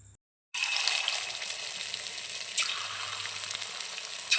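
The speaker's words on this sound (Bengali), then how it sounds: "এরপর পকোড়াগুলো ভেজে নেব।" Chicken pakoras sizzling in hot oil, a loud steady crackling hiss that starts abruptly after a short silence and continues without pause.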